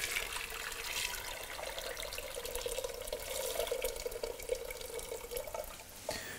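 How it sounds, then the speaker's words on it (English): Boiled water from a kettle pours in a steady, close splashing stream for several seconds, then tapers off briefly near the end. "we'll use the boiled water from the kettle, which will just hurry things along a little bit."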